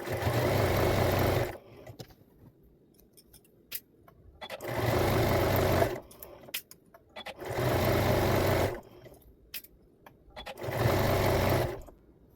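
A sewing machine stitches a seam flat on a plush cuddle kit in four loud, steady bursts of about two seconds each, with quiet pauses between them while the fabric is repositioned.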